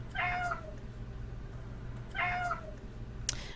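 A house cat meows twice, close and clear, two drawn-out cries about two seconds apart with a short click just after the second.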